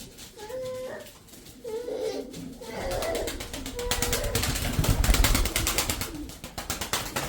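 Flying pigeons cooing in a loft, several soft repeated coos that swell and overlap alongside wing flutters and rustling, fairly close and building in loudness toward the middle.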